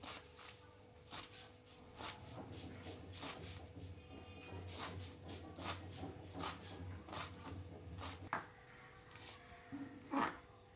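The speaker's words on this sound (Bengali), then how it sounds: "ধোয়া শেষে ধনেপাতাগুলো এভাবে কুচি কুচি করে কেটে নেব।" Knife chopping fresh coriander leaves finely on a board, a steady series of sharp taps with a short quiet pause, then a couple of louder isolated knocks near the end; no talking.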